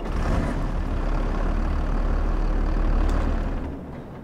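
A Valtra T120 tractor engine in a farming simulator mod runs with a loud, steady low diesel rumble, close and continuous before easing off at the end.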